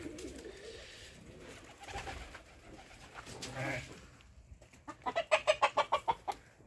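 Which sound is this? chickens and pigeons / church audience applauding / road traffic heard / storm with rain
chickens and pigeons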